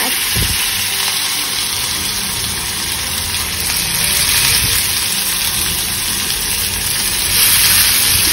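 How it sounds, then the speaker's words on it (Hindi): Vegetables and corn frying in hot oil with cumin in a kadhai, a loud, continuous close-up sizzle that stays steady throughout with no talking. "ये सब वेजिटेबल जो है मैं एक साथ ही डालूंगी ताकि जो है फ्राई हो जाए"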